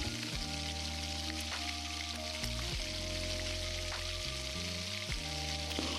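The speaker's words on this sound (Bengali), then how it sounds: "তারপরে দিয়ে দিতে হবে পেঁয়াজ কুচি, এবং সেটাও ভালো করে লাল লাল করে ভেজে নিতে হবে।" Chopped onions fry in oil in a home kitchen, browning for banana-flower chops, a steady broadband sizzle running throughout with a low tonal hum or music beneath it.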